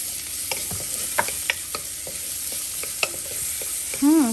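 Onions sautéing in a pan for a Filipino mung bean soup (ginisang mongo): a steady close sizzle with repeated spoon scrapes and stirring clinks, and a brief tonal squeak at the end.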